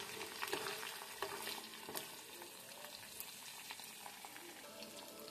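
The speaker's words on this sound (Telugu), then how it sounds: "బాగా వేపాలి, పచ్చివాసన పోయేంత వరకు వేపుతూ ఉండాలి." Spices for a chicken pickle fry in a pan, a steady low sizzle with occasional crackles and brief scraping of stirring, moderately quiet and close, with no talking.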